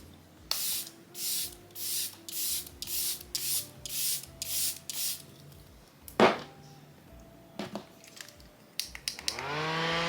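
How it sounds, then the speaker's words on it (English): Repeated short hissing sprays from an aerosol bottle of makeup setting spray, close up, about a dozen quick bursts in a steady rhythm, followed by a few clicks and rustles. "I'm gonna spray my setting spray"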